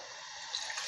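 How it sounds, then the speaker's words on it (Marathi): Water poured into a thick drink of buttermilk and sorghum flour: a short, steady splashing stream, close and soft. "पाणी टाकते।"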